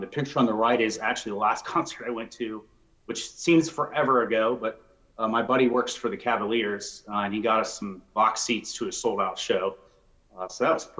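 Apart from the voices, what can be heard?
No distinct noise like a dog, phone or traffic.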